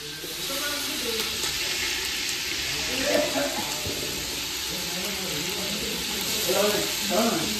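A second batch of marinated fish frying in a pan, with a steady sizzle that runs continuously close by, swelling slightly in places, with faint voices in the background.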